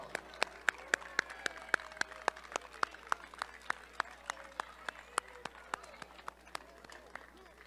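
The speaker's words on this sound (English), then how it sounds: "give football and men's tennis a great round of applause" Sparse, fairly quiet audience clapping honors the football and men's tennis teams at a university championship night, with crisp individual claps ringing out over a low murmur of voices.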